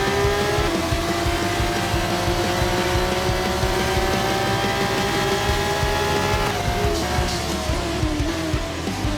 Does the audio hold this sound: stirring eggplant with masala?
no